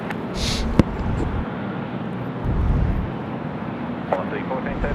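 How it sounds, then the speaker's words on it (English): An Air Canada airliner coming in to land on runway 25 at Sydney Airport on a windy day, a broad steady roar with a rising low rumble midway, heard from a distance amid wind noise. "Air Canada coming in."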